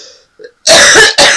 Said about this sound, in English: I have an awful cough, and it's going to come up, I'm sure.